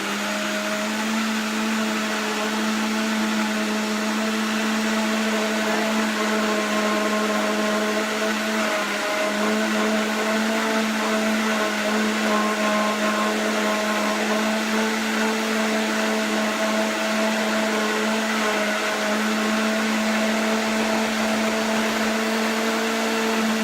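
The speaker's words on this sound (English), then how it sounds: "I'm just mostly scraping sides and letting the blender do the rest here." Vitamix blender running on donut batter, a loud, steady motor whine with a sustained hum that holds for over twenty seconds, close to the listener and with no talking.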